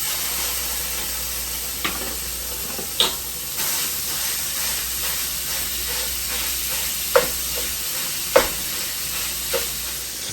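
Ground beef fries in a lightly oiled pan, giving a steady close sizzle and hiss with occasional sharp pops and crackles, without talk.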